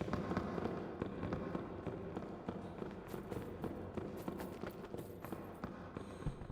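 Rapid 5.56 rifle fire in Battlefield 6 crackles steadily at moderate distance, a continuous busy stream of shots layered over game ambience.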